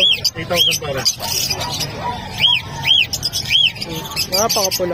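African lovebirds at the Bocaue pet market, including a green opaline dilute, give repeated sharp squawks and chirps close by, over busy market noise and people talking in Filipino.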